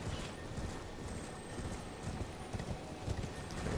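Hooves of a horse galloping in Elden Ring on the Weeping Peninsula pound in a steady, fast rhythm, close and continuous, under a faint game ambience.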